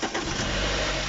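A used car bought cheaply in Germany fires up on its original engine after cranking, giving a loud, close, steady rumble that fills the whole brief moment without any talk.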